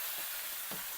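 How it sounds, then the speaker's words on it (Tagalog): Spare ribs pan frying in a pot, giving a steady, close sizzle with a couple of brief stirring scrapes, no voices. "after I pan fry the spare ribs, I will saute the garlic"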